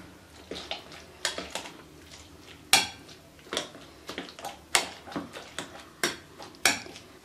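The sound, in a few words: coarsely mashing roasted brinjal for bharta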